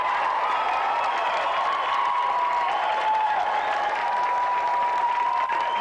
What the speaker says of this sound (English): Round of applause, please, for tonight's special guest, Tony Slattery.